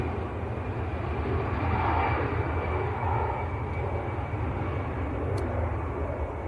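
An EasyJet airliner on its takeoff roll at Manchester Airport gives a steady, broad jet roar heard from a distance, holding constant throughout without any speech.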